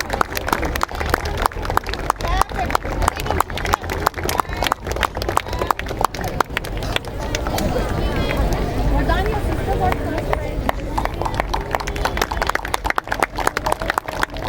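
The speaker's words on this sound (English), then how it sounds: "Please join me in giving a thunderous round of applause to our esteemed chief guest" An audience at a Children's Day celebration applauds the chief guest and his wife, a sustained, dense burst of clapping from a large crowd with some voices and babble mixed in throughout.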